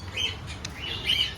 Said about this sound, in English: There we have African lovebirds and 4 pairs of cockatiels.